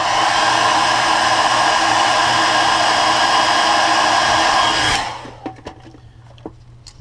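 A heat gun blows steadily and loudly to set paint on a crankbait lure for about five seconds, then cuts off, leaving a few faint clicks and handling taps nearby.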